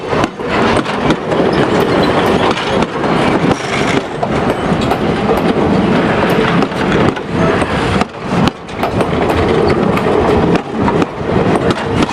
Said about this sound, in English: The ABA set of ALCOs on the point of the overland is all that's needed on this day as the train heads east around Cape Horn.